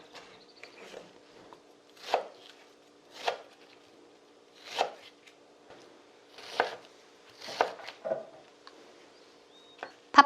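Knife slicing a pear into thin julienne strips on a cutting board, a series of separate crisp cuts about every second or two, close and clear in a quiet room with no voices.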